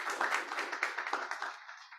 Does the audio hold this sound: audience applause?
yes